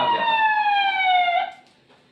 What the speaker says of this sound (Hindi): जैसे पुलिस की गाड़ी आती है